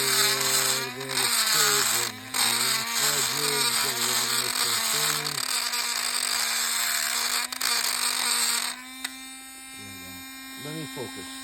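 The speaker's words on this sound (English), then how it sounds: "So I got my carbide bit." A carbide bit in a rotary tool cuts and ports a walnut-blasted N54 engine cylinder head with a steady high-pitched whine that holds close and loud, shifting pitch as the bit bears on the metal.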